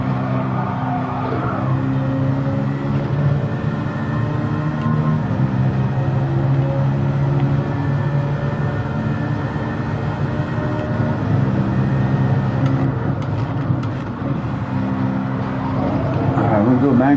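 A Hyundai Elantra's turbo engine drones steadily while running laps, a loud continuous hum with shifting pitch and no clear breaks, and speech blends in underneath.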